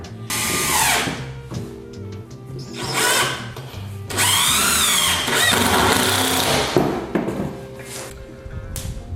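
Power drill driving screws into wooden baseboard during a second-floor renovation, loud whirring runs of a few seconds each with short gaps and a rising pitch as screws seat, close up and without speech.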